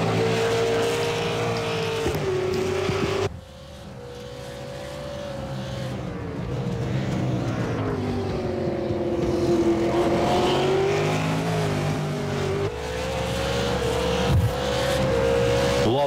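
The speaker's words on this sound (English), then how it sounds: "Let's just listen to these engines for a minute." Race cars at the Bathurst race scream past on track, engines revving loud and continuous with rising and falling pitch as they accelerate, shift and pass, one car's note dropping off before another roars in.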